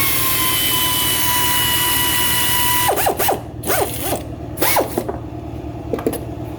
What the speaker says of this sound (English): Now we put the air gun on it.